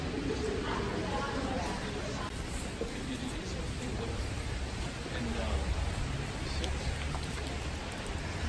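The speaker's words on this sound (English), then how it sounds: "Everyone's pretty wet because it's torrential rain." Torrential rain pours down steadily outdoors on a city street, a dense, loud hiss with patter that stays unbroken throughout.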